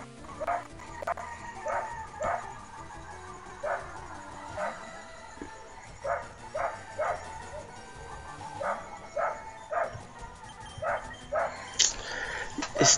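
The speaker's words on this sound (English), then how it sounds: "This damn dog won't stop making noise in my ears." A dog barks in repeated short yips and bow-wows, a steady rhythmic series of about a dozen barks over a busy game soundtrack, moderately loud and close.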